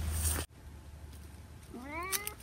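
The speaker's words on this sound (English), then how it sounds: "And this is the vineyard cat." A cat in a vineyard gives a single clear, close meow near the end, following a quiet outdoor stretch that starts with a short burst of noise.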